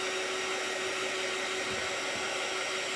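A hair dryer blows steadily on a glass jar covered in tissue paper for a honey jar craft, giving a continuous, loud broadband whoosh with a steady motor hum and no talking.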